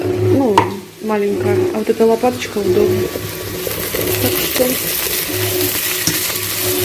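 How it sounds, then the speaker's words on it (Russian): Cabbage fries in a pan with a steady sizzling hiss that swells in the second half, along with a spatula stirring, while a person talks over it. "Сейчас капуста должна хорошо обжариться."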